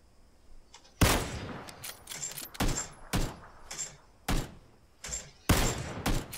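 Sniper rifle shots in PUBG on Xbox One: a handful of sharp, loud gunshot cracks spaced irregularly over a few seconds, each with a short tail, above a quiet game background.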